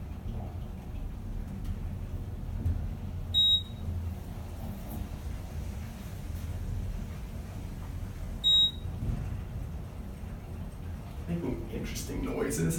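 An Otis Gen2 elevator at a university hall gives two short high beeps several seconds apart over a steady low hum of the moving cab, with faint rattles near the end.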